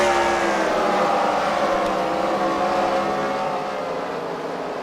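Race cars roar around a dirt track at Freedom Factory fight night, a loud, continuous engine drone with steady revving as the field battles for position, close and sustained throughout.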